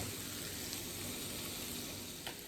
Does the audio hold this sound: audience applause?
no